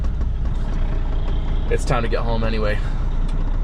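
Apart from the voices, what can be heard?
semi truck pulling away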